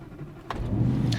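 An Audi R8 Spyder engine runs cold with a low, rough idle rumble that swells slightly, punctuated by a couple of brief mechanical clicks.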